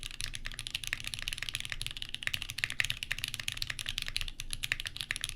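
Fast, crisp typing on a mechanical keyboard with SP Star Meteor White V1 switches and GMK Rainy Day keycaps, dense overlapping key clacks at close range with no talk.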